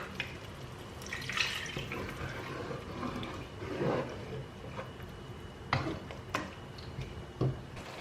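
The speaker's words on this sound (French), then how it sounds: "J'ajoute mon eau." Water is poured into tomato sauce cooking in a pot, making faint splashes and drips with a few soft ticks and clinks in a quiet kitchen.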